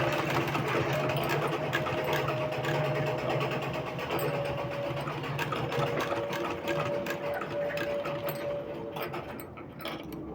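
A sewing machine stitches around the edge of a cut sleeve, a close rapid motor whir with a steady mechanical hum that runs continuously and eases off near the end, with no talking.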